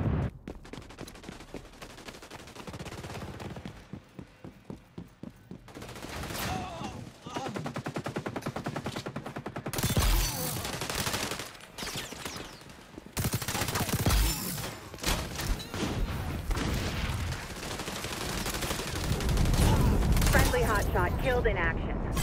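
Rapid bursts of automatic gunfire ring out in a XDefiant match, loud and near, broken by short pauses and heavier volleys, with game voice announcements and talk mixed in.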